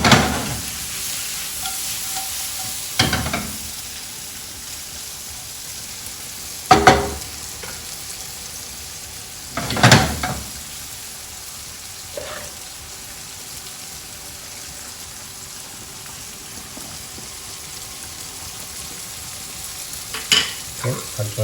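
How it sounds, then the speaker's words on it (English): Prawns and pak choy sizzle steadily in a pot on the stove, with a continuous frying hiss broken every few seconds by scraping stirs and clanks. No one speaks. "I changed my pots again because my pak choy is almost done, and I want the prawns to cook slow now"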